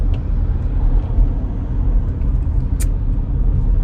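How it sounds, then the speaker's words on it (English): Heavy highway traffic near Chehalis, with cars weaving and passing fast, makes a steady, loud low road rumble throughout, heard from a moving Jeep, with a brief high whine partway through. "These cars are just weaving in and out, flying by."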